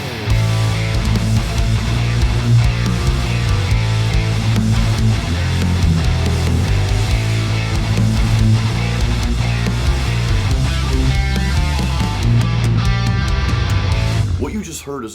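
A dark, aggressive metal riff on heavily distorted guitar chugs densely and loudly for about fourteen seconds over thick low end, then cuts off abruptly.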